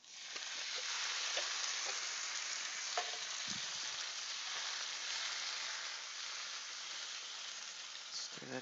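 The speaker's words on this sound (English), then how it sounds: "Stir that in together, meld all the flavors together." Diced tomatoes are stirred into a pan of chicken tikka masala paste, giving a steady close sizzle and hiss with occasional soft scrapes and clinks of the spoon.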